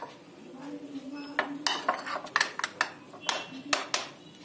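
Fish fry batter is mixed in a bowl, with a utensil clinking and scraping against the dish in a run of sharp, irregular taps that grow busier partway through, close and with no talk.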